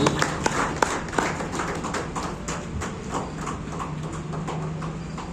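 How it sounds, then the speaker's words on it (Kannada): An audience at a community award function applauds a recipient with scattered, uneven hand claps, sharp and fairly close, thinning out over several seconds. "ತಮ್ಮೆಲ್ಲರ ಪರವಾಗಿ ಚಪ್ಪಾಳೆಯಿಂದ ಅವರಿಗೆ ಅಭಿನಂದನೆಯನ್ನು ಸಲ್ಲಿಸೋಣ"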